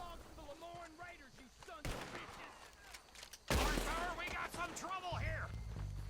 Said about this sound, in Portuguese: Agora vai começar o tiroteio